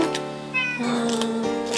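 A house cat meows insistently in a home, wanting to eat, with several rising harmonic cries over about two seconds, close and fairly loud, with no talking.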